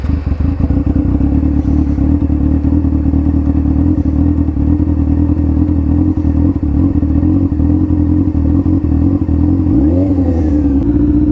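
A sport bike motorcycle cruising with a loud, steady engine drone heard up close from the rider's position, holding an even pitch and then briefly dipping and rising near the end.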